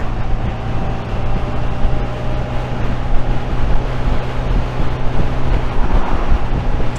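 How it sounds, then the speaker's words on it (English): Strong wind roars and buffets the microphone steadily throughout while riding a Honda Navi scooter, with a low engine drone beneath the rushing gusts. "It's very, very windy."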